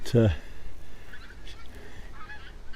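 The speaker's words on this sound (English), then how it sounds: "loads of noisy geese" A loud burst of goose honking right at the start, a few harsh calls close by, followed by fainter honks and calls trailing off in the distance.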